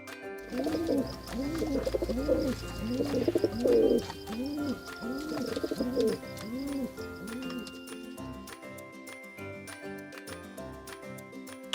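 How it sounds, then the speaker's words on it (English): Farm pigeon cooing in a series of soft rounded low coos, about eight in a row over the first seven seconds, close and clear, followed by quieter musical backing. "pigeon,"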